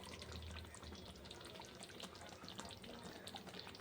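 Fish frying in mustard oil after more oil is poured over it from above, giving a dense, steady sizzle and crackle up close that runs unbroken throughout.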